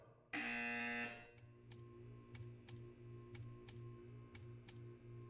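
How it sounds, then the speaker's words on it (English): A loud electronic buzzer in the video game Portal 2 blares for about a second, followed by a steady low hum and a series of sharp, evenly spaced clicks. "When you hear the buzzer, stare at the art."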